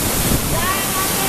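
A waterfall drops roughly 200 feet into a pool at a Rishikesh spot, giving a steady, broad roar of falling water. The rush stays constant and fairly loud throughout, with a faint hint of voices underneath.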